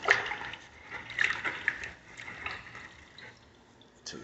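Soapy water and a sponge worked over freshly grouted backsplash tile during a repair, giving soft wet splashes, drips and sloshing strokes at close range, fairly quiet and steady with a few brighter splatters.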